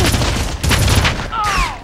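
Rapid bursts of gunfire in the first-person shooter Red Faction, dense and continuous across the whole moment, with a whizzing ricochet-like sweep near the end and no talk over it.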